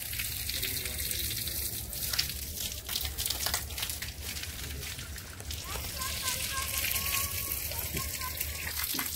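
Stream water flows steadily among the hills at Madhavadhara near Visakhapatnam, a continuous rushing gush heard under a person talking, with faint voices of other people in the background.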